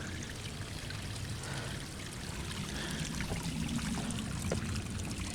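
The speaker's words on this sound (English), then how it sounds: "A little quick waterfall. Right on the side of the trail." A small waterfall beside a trail in Mission Trails Regional Park pours and trickles in a steady, soft splash, heard close and alone.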